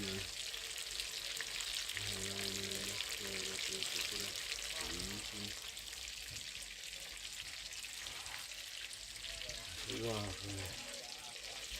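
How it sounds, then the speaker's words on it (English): Chicken sizzles steadily in a hot pan, a constant crackling hiss, while voices talk quietly in the background, as brown stew chicken is cooked at home. "Chicken sizzle."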